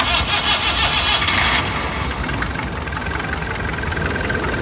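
A used car engine at a second-hand car lot cranking with a rapid pulsing starter whir for about a second and a half, then catching and settling into a steady idling rumble, close and loud.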